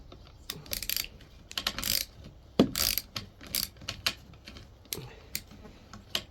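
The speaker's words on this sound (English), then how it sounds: "Now I'm just going to put my socket back on my socket wrench and flip it so I'm tightening it." A socket wrench ratchets while tightening a car spark plug, giving sharp clicking runs in short irregular bursts, close and distinct with pauses between strokes.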